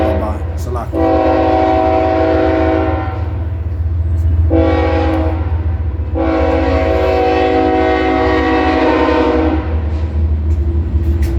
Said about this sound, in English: Salakia, wait for the train to go by